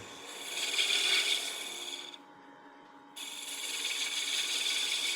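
A woodturning gouge rides the bevel along the outside of a spinning wooden box on a lathe, giving a loud, steady rasping scrape that cuts out for about a second midway before resuming.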